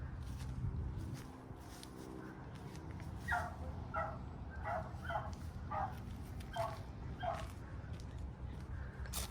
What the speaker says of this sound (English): There's some other doggies in the neighborhood.